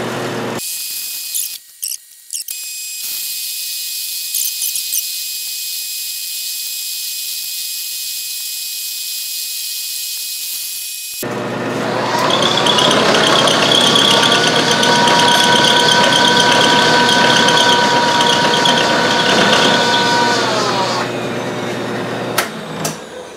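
Metal lathe fitted with a ball turning attachment, quiet at first with brief clicks, then a loud sustained whine and cutting screech for about ten seconds as the first pass is taken, falling back to low running.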